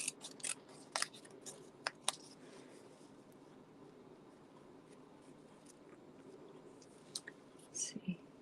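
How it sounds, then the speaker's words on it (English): Quiet snips of scissors fussy cutting a snowflake from iridescent specialty vellum, a few sharp cuts early then scattered ones later, faint over soft room hiss. "I'm just actually going to take this and do another fussy cut here"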